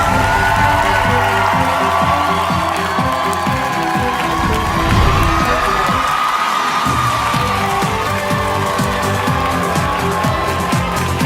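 A village crowd cheers and whoops loudly and continuously, with children shouting and overlapping voices forming a dense, energetic roar for about eleven seconds.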